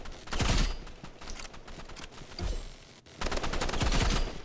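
Gunfire from the Roblox Rivals video game: loud, rapid bursts of shots around the half-second mark, again near two and a half seconds, then a sustained volley toward the end, with no talking.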